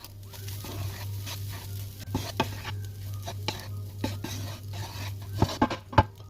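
Spoon scraping and stirring mince with mixed masala in a pan, a soft sizzle underneath and repeated metallic clinks against the pan, growing louder toward the end.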